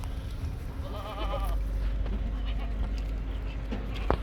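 Goats at a goat farm bleat in a short wavering call, with more faint bleats and farmyard noise over a low steady background.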